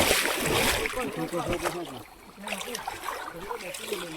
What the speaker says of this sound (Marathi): हे काय मित्रांनो आपण पाण्यातून चालतोय